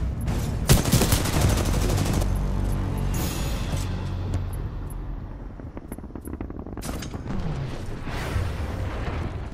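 Rapid gunfire in the video game Titanfall 2, loud volleys of shots with booming impacts, thinning to quieter game ambience before another burst builds near the end.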